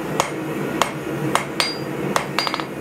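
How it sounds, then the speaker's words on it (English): A hand hammer strikes hot metal on an anvil while forging a shelf bracket, sharp ringing blows at a steady, unhurried pace, then a quick cluster of lighter taps at the end, close and clear. "it's so nice to be at an anvil with a hand hammer"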